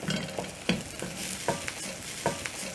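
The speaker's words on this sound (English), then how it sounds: "I'm going to stir slowly as the eggs cook." Eggs cooking with noodles in a pan are stirred slowly, with soft sizzling under a regular series of spatula scrapes about every half second, close and unaccompanied by speech.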